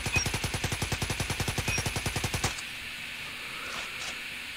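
A video game gun fires a sustained, rapid automatic burst for about two and a half seconds in an evenly spaced stream of loud shots while its recoil is tested, then stops abruptly, leaving only quiet background hum.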